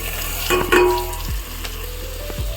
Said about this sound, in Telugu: మనం ముందుగా పక్క పెట్టిన మటన్ని తీసి ఇప్పుడు ఇందులో వేసుకోవాలి